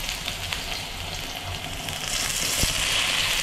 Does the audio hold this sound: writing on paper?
no